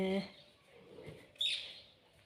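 Sparrows chirp outdoors in a village yard as rice and flour are scattered for them, giving a few short, faint tweets with one brighter call midway over quiet background and a soft voice.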